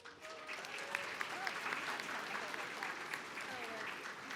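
An audience at a 2022 dual enrollment recognition ceremony applauds, a continuous, moderately distant patter of many hands with a few sharper claps standing out, while faint voices murmur beneath.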